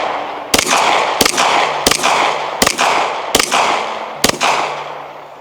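A Bersa M2XI 2011 pistol fires six sharp, loud shots at an outdoor range, spaced roughly two-thirds of a second apart, each followed by a short echoing decay.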